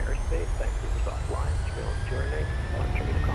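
Jet engines of a PMDG 737-700 in Microsoft Flight Simulator spool up at takeoff power: a steady broad roar with a rising whine, and a person talks continuously over it.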